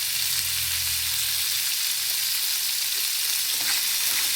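Leftover food frying in oil in a pan, a steady dense sizzle running throughout with no talking, joined by a low hum during the first second and a half.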